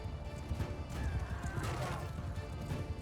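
Horse neighing amid a cavalry charge against archers in the video game Bannerlord, with a steady rumble of hooves and battle noise running continuously underneath.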